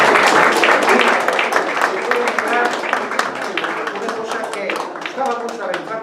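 Audience applause at a poetry evening in Madrid, dense clapping starting loud and gradually thinning over several seconds, with no talk over it.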